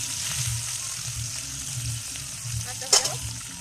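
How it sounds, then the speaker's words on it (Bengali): Tilapia pieces fry in hot oil with a close, steady sizzle throughout and one sharp crackling pop near the end. No voices are heard. "এপিট ওপিট করে আমি লাল লাল করে ভেজে নেবো মাছগুলো"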